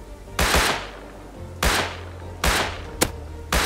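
Gunfire in the survival game Rust, with four loud, sharp bursts spaced across the clip, each trailing off quickly, the last pair close together. No voices are heard.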